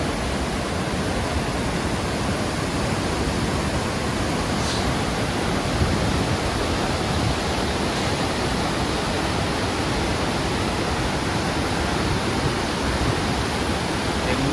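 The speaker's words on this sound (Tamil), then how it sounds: "Lakkam water falls." Lakkam waterfall near Munnar, Kerala, pours with forceful rushing water, a loud, steady broadband roar that holds unbroken throughout with no voices.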